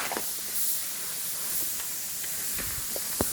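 A spray gun lays a second coat of clear coat on a BMW E30, a steady soft airy hiss running throughout with faint clicks and small knocks in the background.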